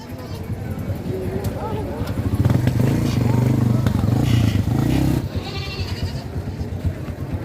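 Goats bleat repeatedly among a noisy crowd at a livestock sale, with people talking nearby and a motor rumbling in the background.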